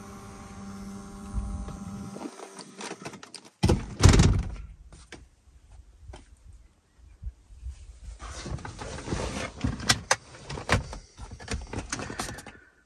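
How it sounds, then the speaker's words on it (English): A BMW E92 335i power seat motor whirs in short bursts as the seat slides forward and back, with clicks and clunks of the mechanism between runs and quiet pauses, close and fairly faint inside the car. "These buttons here move the seat forwards and backwards faster"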